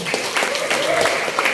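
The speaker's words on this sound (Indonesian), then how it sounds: "Tepuk tangan kita semua." A seminar audience at a national Nahdlatul Ulama centenary gathering gives a short burst of applause, a busy broad patter of clapping with voices mingled in.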